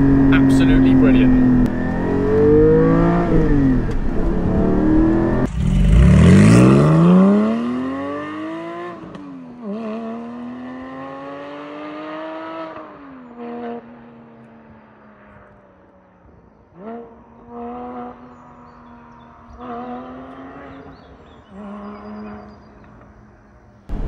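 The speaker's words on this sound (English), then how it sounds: "the higher up the rev range with the OAPs, the car basically screams and sounds like a proper GT car now" A Porsche GT4 engine revs hard, pitch sweeping up and falling back in loud, long pulls, then settling into shorter, quieter blips and throttle bursts as it winds down.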